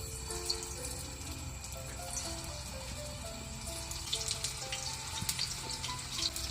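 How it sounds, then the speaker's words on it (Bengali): Potato balls frying in soybean oil in a frying pan, a steady sizzling hiss with faint crackles and pops running throughout, with a little kitchen clatter near the end. "পটেটো বলগুলোকে একে একে ভেজে নেব"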